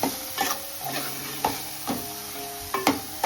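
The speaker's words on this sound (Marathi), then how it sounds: "आता आपल्याला तेल सुटेपर्यंत परतून घ्यायचे" Spice masala for a prawn curry is stir-fried in oil, giving a soft continuous sizzle broken by regular scraping stirs of a spoon against the pan, close up and without speech.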